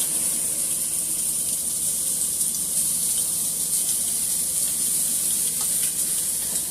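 Sage sausage dropped into a hot pan, sizzling steadily with a bright, even frying hiss throughout, fairly close and with no talk.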